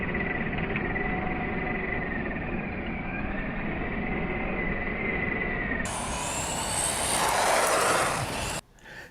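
Tamiya ORV Brat RC buggy on a speed run, a thin high electric motor whine that climbs and steadies as the wheels spin, then rises and cuts off abruptly near the end.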